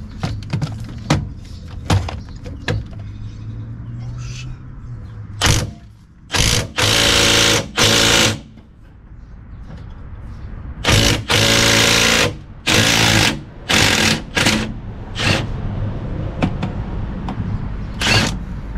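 A compact impact wrench hammers at an axle nut during a CV axle and seal job, firing in several loud, sharp rattling bursts separated by short pauses and lighter clicks and knocks.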